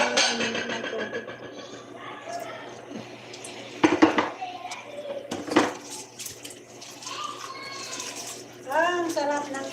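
Dishes, pots and cutlery being washed under hot running water, with clattering clinks and sharp knocks over a steady tap flow and voices talking nearby.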